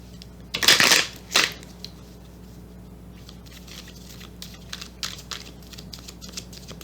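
Tarot cards shuffled and drawn from a deck, with a couple of loud riffling bursts early on followed by softer, scattered taps and slides of cards being handled and laid down.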